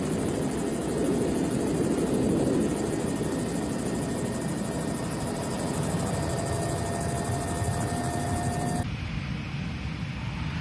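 A helicopter flies close overhead near cars, its loud, steady rotor and turbine roar filling the scene throughout before the sound shifts abruptly near the end.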